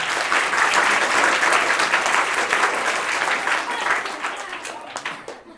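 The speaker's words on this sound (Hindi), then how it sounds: "जोरदार तालियां पहले बच्चों बजाओ।" Children and an audience applaud at the close of a social drama stage performance in Lucknow, loud sustained clapping from a large crowd that slowly fades toward the end.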